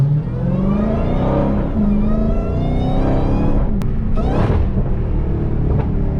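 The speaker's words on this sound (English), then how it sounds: "I wanted to hear the supercharged sound" A supercharged Dodge Hellcat engine with an aftermarket intake revs loudly up and down with a deep supercharger whine, close by, with a sharp surge partway through and no talking.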